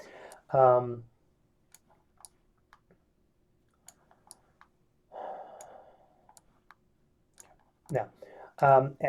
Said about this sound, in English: I click on it and delete